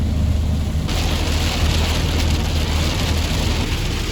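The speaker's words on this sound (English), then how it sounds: "It's literally hailing so bad." Hail pounds hard around a camper van, a loud, dense clatter of stones on the roof and ground over a low rumble, rising sharply in intensity just under a second in and staying heavy.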